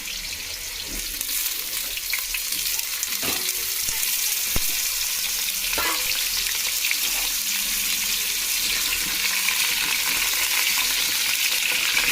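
Potatoes drop into well-heated oil and fry with a steady, dense sizzle, with a few sharp clinks and stirring knocks over the constant crackling hiss, no voices.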